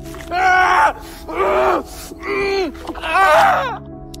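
A man attacked by a mutant bird that tears his arm cries out in four loud, strained bursts of screaming and groaning, each about half a second long, separated by short pauses.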